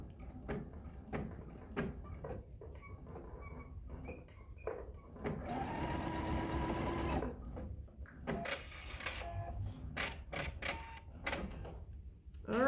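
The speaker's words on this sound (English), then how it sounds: "I sewed all the way around, but making sure that I leave that opening where that casing goes in" A sewing machine stitches around a drawstring pouch, starting with short clicks and brief bursts, then running in a sustained whirring stretch and ending with more quick bursts, quiet and close.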